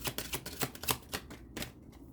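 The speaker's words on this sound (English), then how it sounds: "I'm having a hard time shuffling these cards." Cards being shuffled in a quick run of crisp riffling bursts, close and fairly quiet, with no one speaking.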